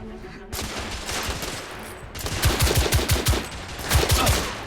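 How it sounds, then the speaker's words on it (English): Gunfire in The Order: 1886, loud close volleys of rapid shots that start abruptly, pause briefly, then resume in sharp repeated bursts. "they're shooting at me!"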